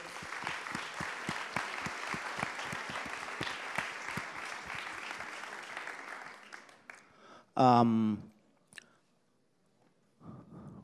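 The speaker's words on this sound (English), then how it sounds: "Can we please start this by clapping your hands for yourself?" An audience claps for themselves in a continuous burst for about six seconds that fades out, followed by a short loud noise and quiet, then a brief voice near the end.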